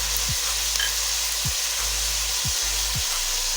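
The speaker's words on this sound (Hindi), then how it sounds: "मसाले को अच्छी तरह भूनेंगे" Whole spices and masala for matar pulao fry in a pot with a dense, even sizzle. A few soft low thuds of stirring come about once a second, close and loud, and nobody speaks.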